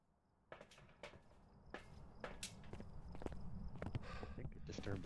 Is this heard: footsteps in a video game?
yes